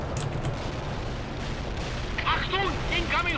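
Continuous low rumbling barrage of artillery fire support in the World in Conflict strategy game, steady and distant-sounding throughout, with game radio voices speaking briefly near the end.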